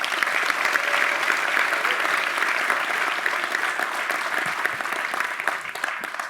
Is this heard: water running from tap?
no